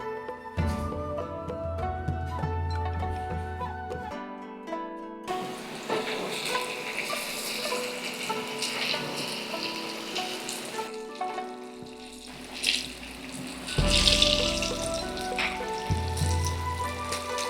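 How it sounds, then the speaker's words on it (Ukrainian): Battered chicken fries in oil, sizzling and crackling steadily, with occasional clinks and stirring noises over a continuous frying hiss. "Починаємо смажити."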